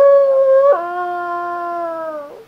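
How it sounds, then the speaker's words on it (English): A dog gives one long, loud howl on request, starting on a steady pitch, dropping abruptly to a lower sustained tone and holding it for nearly two seconds before fading, with no talking. "howl one time so everybody can hear you."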